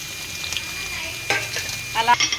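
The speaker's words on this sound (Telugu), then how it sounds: "ఇప్పుడు దీంట్లో ఉల్లిపాయలు వేసేస్తున్నాను" Onions tossed into hot oil with mustard seeds and a dried red chilli, a short close sizzle with a couple of clattering stirs and a brighter crackle near the end.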